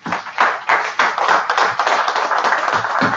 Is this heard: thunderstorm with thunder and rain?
no